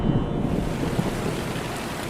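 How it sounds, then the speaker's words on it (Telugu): Heavy rain pours down in a dense, steady roar, loud and close with a deep rumbling undertone and no voices. "ఎంత పెద్ద వర్షం పడుతుందో వదినా, ముందే వచ్చి మంచి పని చేశాం."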